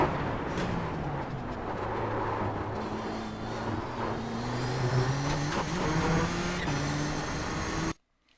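A Nissan GTP ZX-T prototype race car in the iRacing sim at Monza holds full throttle, its engine a loud, steady high-revving drone with rising gear-pitch sweeps and road rumble, then cuts off abruptly at the end.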